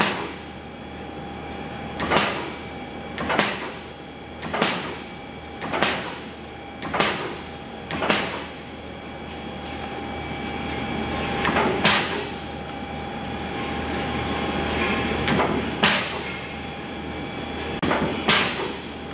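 A reconditioned 200-ton Minster high-speed press runs in inch mode, giving loud, evenly spaced metallic thumps about one per second, then a looser run of strokes over a steady mechanical hum.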